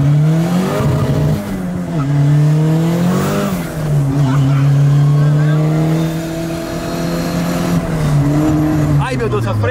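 A turbocharged VW Gol launching hard with wheelspin, its engine droning loudly as revs climb and hold while tires squeal, with people talking excitedly over the noise.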